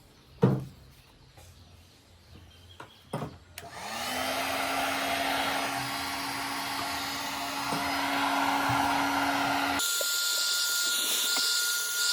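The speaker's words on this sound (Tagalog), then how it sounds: "initin na natin using blower heat gun." A steady, loud blowing hiss of a heat gun shrinking heat-shrink tubing runs for several seconds after a few clicks, then shifts to a higher, thinner whoosh near the end.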